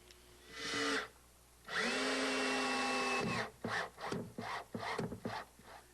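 A power driver sinks 2 1/2-inch screws through a plywood boat mast step into the keelson, giving a short motor whine, then a longer steady whine, followed by a string of quick, choppy bursts.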